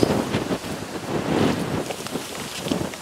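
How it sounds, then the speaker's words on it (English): Strong outdoor wind buffets the microphone in loud, uneven gusts of low rumbling noise along farm paths in Dover, with no speech. "And it's very windy, so can you hear me?"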